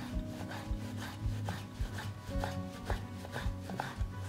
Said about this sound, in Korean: 이렇게 해서 쇠고기를 다 채썰었어요